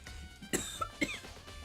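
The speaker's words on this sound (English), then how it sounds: "And cough on my own air, apparently." Two sharp, close coughs a half second apart, with a small throaty catch between them, fairly quiet overall.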